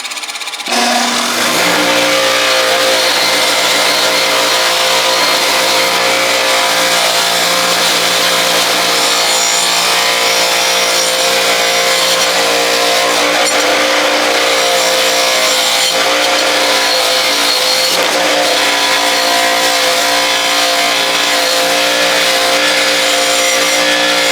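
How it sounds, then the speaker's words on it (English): An angle grinder strips rust from parts of a 1960s rototiller, spinning up sharply then whining loud and steady without a break for the full stretch. "We're going to start here again with my grinder."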